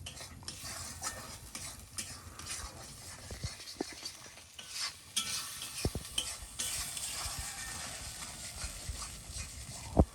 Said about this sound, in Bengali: এই মশলাটা যতক্ষণ কাঁচা গন্ধ না যায় ততক্ষণ ভাজা লাগবে